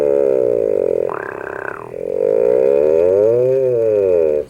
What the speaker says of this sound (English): You can buzz melodies and use your ear to create the pitches and get some tone.